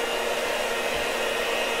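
Electric mixer whisking caramel frosting for a Southern caramel cake, a steady, even motor whir that runs unbroken at constant loudness with no talking.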